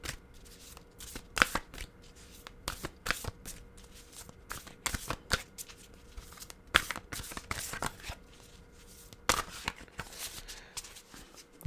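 A Nature's Whispers oracle card deck is shuffled in repeated riffling bursts, close and fairly quiet, with brief pauses between them and no talking.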